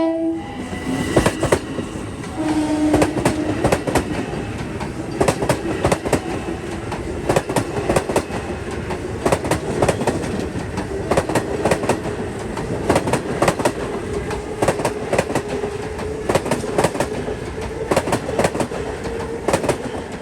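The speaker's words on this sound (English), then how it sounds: "As we see this train now depart." A Long Island Rail Road M7 commuter train pulls out of Deer Park station with rhythmic clickety-clack of wheels over rail joints, a steady rumble, and short horn tones early on.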